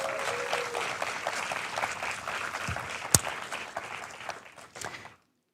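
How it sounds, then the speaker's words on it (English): Audience at an award gala for a fulldome festival claps warmly, a moderately dense patter that gradually thins out and stops, with a few sharper individual claps near the end. "the city of Jena is generous, needs some generous applause"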